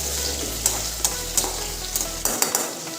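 Panch phoron spices sizzling in hot oil in a pan: a steady, loud, close frying hiss with a few sharper crackles and spits, and a low hum that cuts out near the end.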